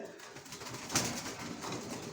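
Racer pigeons coo softly inside a loft, a low steady murmur of calls with one brief brighter sound near the middle, fairly faint and without any talk.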